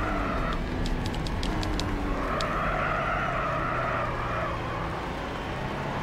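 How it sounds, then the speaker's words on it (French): A race car's engine in Gran Turismo HD on the PlayStation 3 drones steadily at high revs, its pitch sliding up and down through the gears, loud and continuous with no voices. "c'est un effort fait à chaque fois sur le son du moteur"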